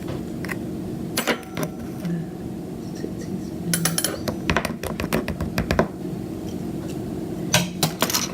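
A henna hair mix is stirred in a bowl, a utensil clinking and scraping against the sides in bursts of irregular, clattering taps, close and moderately loud with a faint low hum beneath and no talking.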